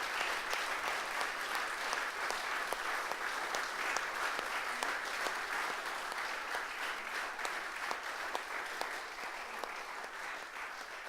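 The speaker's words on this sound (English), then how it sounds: "another round of applause?" A council meeting audience gives a sustained round of applause, steady dense clapping from many hands throughout at moderate level, with no talk over it.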